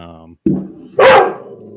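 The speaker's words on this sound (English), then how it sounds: "my neighbor decided to set off some fireworks tonight, so of course that makes the dog start barking" A dog barks, set off by a neighbour's fireworks, a couple of loud close barks following a short tonal whine, with voices nearby.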